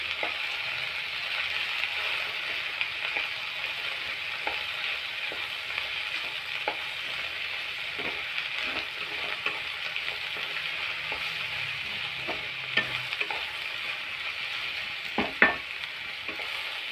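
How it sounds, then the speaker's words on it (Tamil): Ivy gourd (kovakkai) sizzles and fries steadily in a pan, with occasional soft scrapes and taps of stirring. "இது லைட்டாக வதங்கட்டும்."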